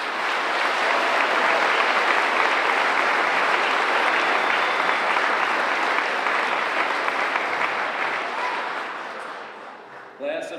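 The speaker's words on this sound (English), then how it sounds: "Let's please give them a round of applause." A high school graduation audience applauds in a long, sustained burst of dense clapping that slowly fades after about eight seconds, followed by a brief sound at the very end.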